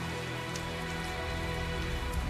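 Steady rain falling in the video game Tales of Zestiria, a dense, even hiss of drops with a low rumbling bed beneath, continuous and unbroken, with no voices.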